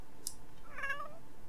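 A single short cat meow from a pet cat in The Sims 4, quiet and fairly close, over a faint steady background hum with no talking.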